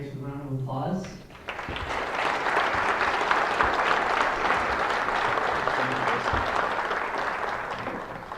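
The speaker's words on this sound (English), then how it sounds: "let's thank Grace with a round of applause" Conference audience applauding a presenter after a talk on standardized patients in simulation: a voice speaks briefly, then sustained clapping swells and holds evenly at moderate loudness for several seconds.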